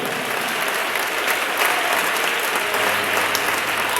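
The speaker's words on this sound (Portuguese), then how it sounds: "Quem pode levantar as mãos e aplaudir o nome do nosso Deus?" A Pentecostal youth congregation in Ribeirão Preto claps for God's name during a church worship night, a full, continuous round of applause, with cheering voices faintly mixed in toward the end.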